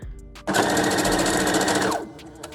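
A sewing machine runs a long zigzag stitch along a closure wig band, a loud, continuous close-up mechanical whir lasting about a second and a half before stopping.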